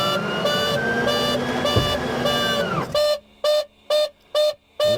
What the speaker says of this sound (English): If the manifold pressure gets down below 17 inches, with the gear not being down, it sounds the horn